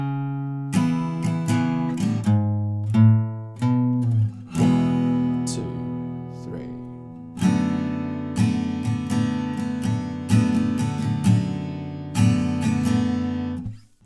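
Acoustic guitar strumming the chorus of a song, rhythmic down-up strokes with ringing chords and percussive muted hits, close and unaccompanied by speech.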